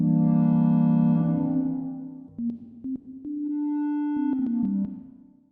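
A Roland D-50 synthesizer patch with reverb switched on: a sustained tone gliding through a few pitch steps, with a reverb tail hanging after each change, clean and steady with no voice.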